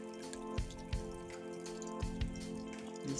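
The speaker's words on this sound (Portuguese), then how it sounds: "Bem de madrugada que tá chovendo." Rain falling at night in the Brazilian backcountry, faint water dripping in a few sparse, irregular drops over a low steady hum, quiet and close with no talk.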